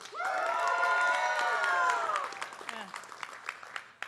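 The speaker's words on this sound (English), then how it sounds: "I'm going to see how the faculty do when they clap loud, cheering" Faculty at a health sciences university white coat ceremony clap loudly and cheer together, a dense burst of applause with whoops and shouting that swells, then thins out toward the end.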